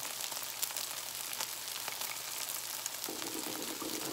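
Beaten egg frying in hot oil for chicken fried rice, a faint, even hiss with light crackles throughout, soft and fairly distant, no voices present.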